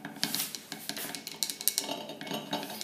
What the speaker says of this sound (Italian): e mescoliamo energicamente